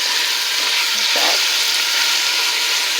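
Ground turkey fries in a pan, giving a steady, bright sizzle, with a brief scrape of stirring partway through; close and loud, and nobody talks.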